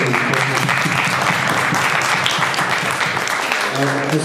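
Steady audience applause fills the room at a cosplay conference, a continuous wash of clapping with voices audible underneath throughout.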